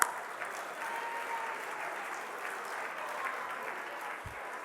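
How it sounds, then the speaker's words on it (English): An audience at a 2025 health-care heroes celebration breaks into applause: an even, continuous patter of many hands, moderately distant and fairly quiet, holding steady throughout without speech. "give yourselves a round of applause."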